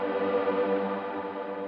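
Electric guitar ringing through a reverb pedal with pitch modulation turned all the way up, a steady sustained wash with a slight swirling wobble, fairly loud and alone.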